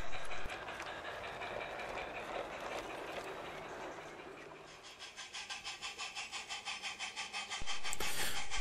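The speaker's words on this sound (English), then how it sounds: "The mid-afternoon up passenger has just climbed Gallantry Bank and is pulling in to Bewkley Station." A model railway passenger train pulls in to a small station after climbing a gradient, a steady rumbling run that settles into a rhythmic chuffing beat, then a sharp hiss of steam near the end.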